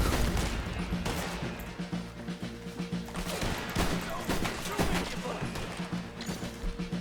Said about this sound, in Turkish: Tüfekle iyi ateş ediyordum ha.